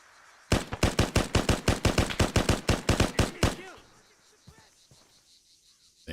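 Rapid, evenly spaced automatic gunfire in the ArmA military shooter, a loud burst of about twenty shots lasting roughly three seconds, then quiet ambience with faint trailing noise.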